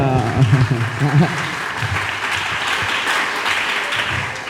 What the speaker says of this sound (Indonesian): Tepuk tangan ya, Pak.